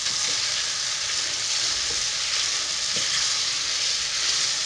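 Bacon and spaghetti carbonara sizzle steadily in a pan as they are stirred, giving a constant close frying hiss with faint scrapes and no talking.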